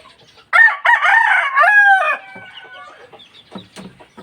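A caged chicken crows loudly and close in one long rooster call, followed by softer clucking.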